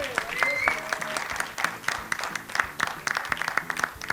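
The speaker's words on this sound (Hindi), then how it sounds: "गोविंदा जी के लिए जोरदार तालियां हो जाएं।" Audience applause at a trailer launch event for Govinda, a crowd clapping in uneven bursts with a steady rhythm, moderately loud with some voices mixed in.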